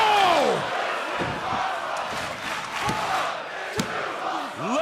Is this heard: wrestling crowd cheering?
yes